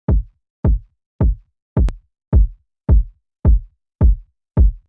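Kick drum with added sub-bass from the Max Bass plugin, hitting nine times at a steady, even pace, each thump deep, booming and quickly decaying, loud and alone.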